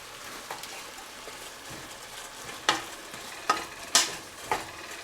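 Garlic, celery and onions frying in a pan for mushroom stuffing, a steady soft sizzle with a few sharper scrapes and knocks from stirring, close and without speech.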